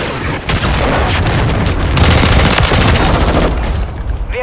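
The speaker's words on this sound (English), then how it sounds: "Friendly cruise missile approaching target." In Call of Duty, a cruise missile strike lands amid gunfire: a dense, loud, continuous roar of booms and rapid fire that fills the whole stretch and eases slightly at the end.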